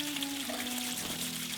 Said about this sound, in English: Getting the water going for the first time this season